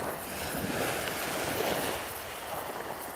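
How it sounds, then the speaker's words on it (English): Ocean surf washes steadily in a broad, continuous hiss with some wind noise, fairly faint and with no one speaking. "Listen to the sound of that ocean"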